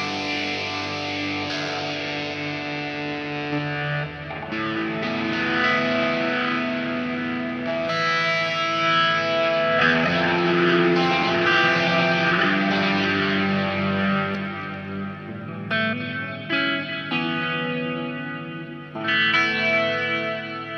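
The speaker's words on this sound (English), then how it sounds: "take your multi-effects unit or your Plethora X5, take your other pedals and your amp and just play with it" Electric guitar played through a Plethora X5 multi-effects pedal, ringing chords and melodic lines swirling with chorus, echo and some distortion, loud and sustained with brief gaps between phrases.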